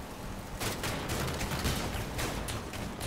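Rapid bursts of gunfire in a video game while driving, a dense crackling volley of shots repeating over a steady engine-like rumble, loud and close.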